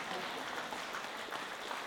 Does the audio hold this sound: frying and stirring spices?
no